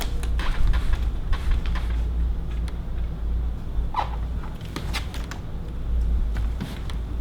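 Sliding glass door panels are shifted along their track during installation, giving repeated creaks and scraping rumbles that carry on steadily for several seconds with no talking.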